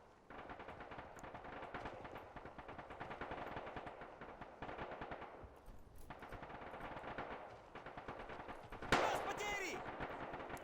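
Sustained machine gun and rifle fire in a 1999 Battle of Kosare war game, with dense rapid bursts running continuously and a sharper loud blast near the end, while a voice talks over the shooting.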